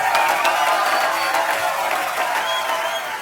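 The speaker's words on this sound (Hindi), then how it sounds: "आप सबकी जोरदार तालियों के बीच mister Ashutosh Gowariker and the very beautiful Pooja Hegde" A studio audience claps steadily to welcome guests onto a show, a dense even wash of applause with some crowd noise, loud and continuous throughout.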